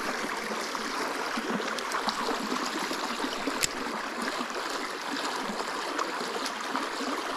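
A small river at a trout fishing spot, its water flowing and trickling in a steady, close, moderately quiet wash with faint gurgles, and no voices.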